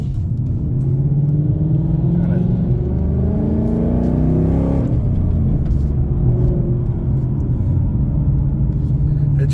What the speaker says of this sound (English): See, that exhaust is not overbearing.